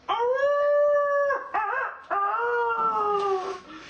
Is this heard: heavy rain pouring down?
no